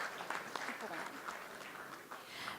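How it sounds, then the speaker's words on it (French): Applause from the audience at a young entrepreneur awards ceremony in a hall, a faint continuous patter that rises and falls slightly, with a few stronger claps poking through and some murmuring underneath. "qu'on applaudit bien fort"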